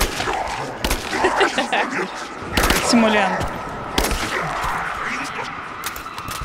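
Gunfire in the Rise of the Tomb Raider video game, Croft Manor DLC: several sharp, loud shots spaced irregularly through the clip, with commentators talking between them.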